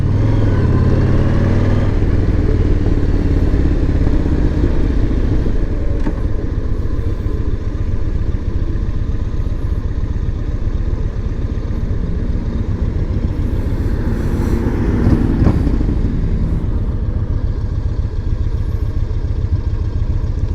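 A motorcycle pulling away in first gear on a ride out of town, its engine note loud and steady with continuous low rumble and road noise throughout, no talking.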